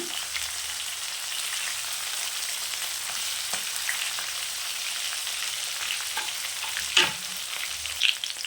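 Rohu fish pieces frying on a dosa griddle, with a constant bright sizzle and occasional scraping clatters as they are turned and stirred, close and steady with no voice.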